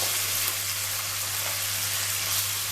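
Chopped onion dropped into hot oil for a vegetable dalia, giving a steady, loud, continuous sizzle and crackle throughout with a low background hum and no talking.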